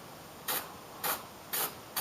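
Four short bursts from a spray can aimed at weld areas on a car repair panel, each hiss roughly half a second apart and fairly quiet against a faint background hum.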